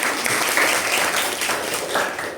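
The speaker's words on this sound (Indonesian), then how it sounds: "Beri tepuk tangan dulu untuk Mbak Keisha." A short burst of applause from students in a classroom for a classmate, dense and even at moderate closeness, tapering slightly at the end.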